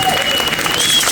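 An audience gives a music group a burst of applause, a dense wash of clapping heard up close, with a voice speaking over it.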